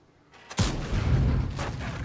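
A single deep tank cannon blast from a video game booms out, followed by a rumbling roar that lingers and fades slowly, with no voices.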